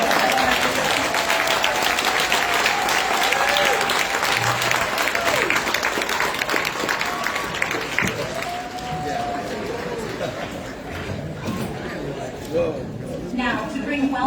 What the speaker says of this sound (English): Can we give another round of applause for that wonderful work?